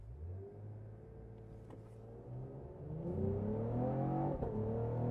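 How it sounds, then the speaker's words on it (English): A 2025 Cadillac CT5-V launches from a standstill toward 60 mph, its engine rumbling low and then rising steadily in pitch through the gears, loud and close throughout with no talking. "So I do want to see if I can beat Cadillac's 0 to 60 time here."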